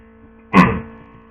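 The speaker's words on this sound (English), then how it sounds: "Sorry, I'm going to sneeze." A single sharp sneeze bursts out close by, a brief broadband blast that trails off quickly into quiet room tone.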